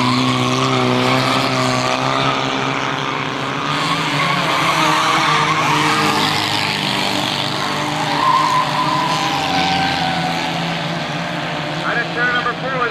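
Race cars on the final lap of a 1998 oval race, engines droning steadily loud throughout with a few tire squeals and a commentator talking over them.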